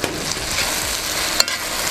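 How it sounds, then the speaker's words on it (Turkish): A steady sizzle with soft scraping of a spoon stirring eggplants in a pot, close and continuous, with one brief clink. "Şimdi şöyle bir karıştıracağım."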